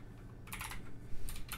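Typing on a Dierya DK61 computer keyboard, heard as two quick bursts of close, crisp key clicks separated by a short pause.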